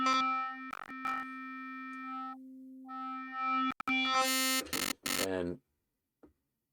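A wavetable synthesizer plays a buzzy, harmonically rich tone that shifts through short sustained notes and stuttering bursts, brightening into a harsh distorted flurry near the end before cutting off, with a single brief spoken word.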